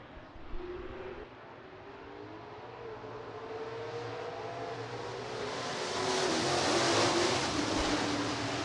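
Late model street stock race cars in a heat race at Rapid Speedway, a pack of engines rumbling and revving together, swelling louder as the cars accelerate away in a sustained roar.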